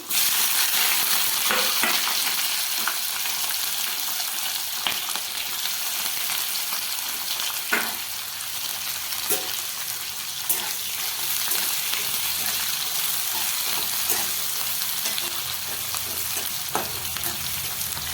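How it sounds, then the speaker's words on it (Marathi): Onions and green chillies fry with crisp peanuts for poha in a pan, a loud continuous sizzle with scattered stirring scrapes and clicks throughout; no speech. "आता यामध्ये आपण कांदा आणि हिरव्या मिरच्या सोबत टाकणार आहे"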